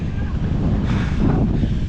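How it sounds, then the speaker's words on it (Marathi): Strong gusting wind at Malanggad hill fort buffets the microphone with a continuous loud roar and rumbling surges throughout, with no talk. "सोसाट्याचा वारा."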